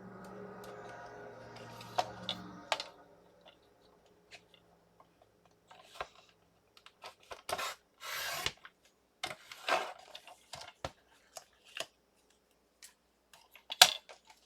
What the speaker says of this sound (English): I'm going to cut just a little bit off here.